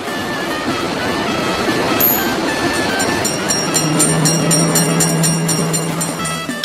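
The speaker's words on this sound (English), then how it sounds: "Quick, train is noticed!" Loud rolling train noise from the mobile game Railroad Crossing, with a low humming tone and a rapid series of bright bell-like pings layered over the rumble.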